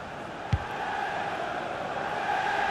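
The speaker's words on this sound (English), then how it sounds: "Whoa, the crowd were up on their feet there." Stadium crowd in the FIFA 19 football video game, a continuous broad roar that builds slightly toward the end, with one short thud near the start.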